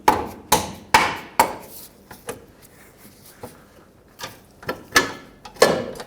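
Metal tool clanks and ratchet-like clicks as a 3/8 extension pulls a lower control arm bushing on a 2003-2008 Toyota Corolla, with sharp irregular knocks separated by quiet gaps.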